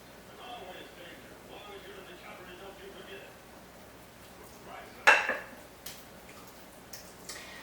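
A spoon scrapes and clinks against a pot of creamy chicken casserole, with one sharp knock and a few lighter taps following quiet kitchen sounds.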